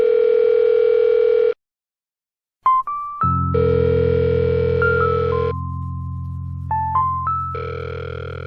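A telephone line gives steady dial-tone and call-progress tones, switching pitch in short beeps between sustained hum-like stretches, loud and close with a brief silent gap, and no talking.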